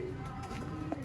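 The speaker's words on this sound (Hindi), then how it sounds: "प्योर फिरोजपुरी कबूतर।" A Ferozpuri pigeon gives a soft, brief coo at close range, a low throaty warble against a busy background murmur.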